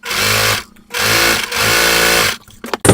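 A sewing machine runs loud and close in three zigzag stitching bursts, each lasting under a second to a second and a half, with short pauses between them and a few clicks at the end.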